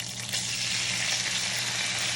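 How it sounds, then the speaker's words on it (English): Chopped leeks frying in hot oil in a pan, a steady bright sizzle that holds evenly throughout with no voice. "put in the leeks into the oil"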